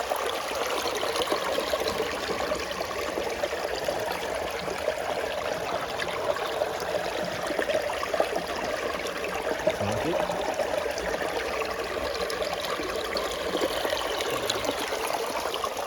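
Water runs steadily through a sluice box in a creek, a continuous rushing trickle at close range with no pauses and no voices.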